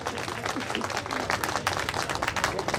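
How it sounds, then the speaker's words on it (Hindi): Applause from the audience at the Ghughuti Mahotsav 2018 cultural festival, steady clapping that fills the space without a break and carries over faint background voices. "जोरदार तालियां विकास खत्री के लिए एक बार और"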